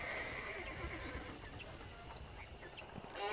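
A horse whinnies in the Red Dead Redemption video game amid steady, noisy ranch ambience, the call fairly soft and partly buried in the background clatter.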